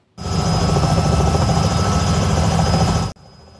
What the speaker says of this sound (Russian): Для тушения пожара в Алтайский край из Красноярска экстренно прилетел самолет-амфибия.